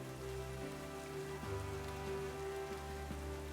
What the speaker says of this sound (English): So we're gonna get the rain up here.